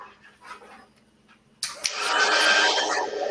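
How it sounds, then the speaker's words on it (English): A heat gun switches on abruptly while heat-embossing ink, its loud, steady blowing roar holding for about two seconds after a quieter stretch of faint handling noises. "So then we're gonna emboss this, heat emboss."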